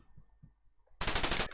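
Machine gun fire in the Commodore 64 game Silkworm, a short, loud, harsh burst of rapid shots after soft thuds.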